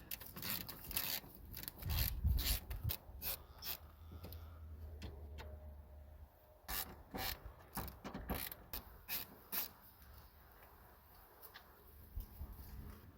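Ratchet wrench loosening 10mm bolts on the upper fan shroud of a Chevy Silverado truck, with a series of close, sharp mechanical clicks and metallic scraping in irregular bursts, louder near the start.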